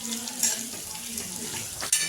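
Food frying in a pan for a one-pot rice dish, a steady sizzle with light utensil clinks near the start and end.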